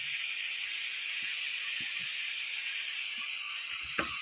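Potatoes fried red and then poured into a hot pan give a steady, even hiss that runs throughout, with a few soft knocks and one small clatter near the end.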